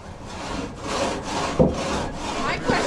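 Two-man pit saw cutting wood at a historic 18th/19th-century saw mill, with steady rhythmic rasping strokes back and forth, about five pulls, close and moderately loud.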